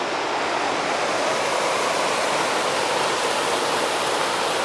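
Clear Creek runs over slick river rocks, roughly four to five yards wide, giving a loud, constant rushing wash of water close by with no talk.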